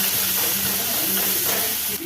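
Capsicum and onion sauté in a hot pan with a loud, continuous sizzling hiss that stays even throughout.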